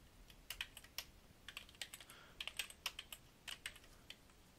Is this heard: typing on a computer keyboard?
yes